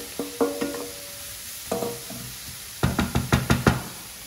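Onions tipped into a pot with bacon for bœuf bourguignon, a series of close knocks and clatters from the pot and spoon in three bursts over a light sizzle, no talk.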